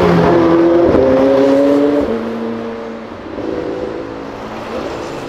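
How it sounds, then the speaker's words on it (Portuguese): A McLaren sports car accelerates hard with a loud, rising engine roar, the pitch climbing through gears before the sound eases and drops away, heard up close with no talking. "Ver duas McLaren acelerando no mesmo dia com aquele ronco que só o McLaren tem."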